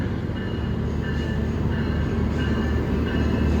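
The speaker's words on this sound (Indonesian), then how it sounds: "Ini kereta api Bima masuk di jalur 1 stasiun" A passenger train hauled by a CC 206 locomotive rolls close by into Cirebon station with a steady rumbling roar of wheels on rails and faint metallic squeals.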